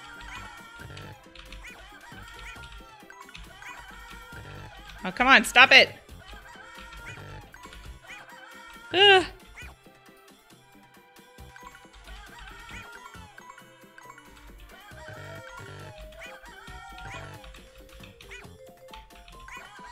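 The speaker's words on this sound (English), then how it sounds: "The chickens are all so mad at me." Farm chickens in the video game Story of Seasons: Friends of Mineral Town cluck amid soft game music, with two loud, sharp squawking bursts standing out; a person speaks briefly.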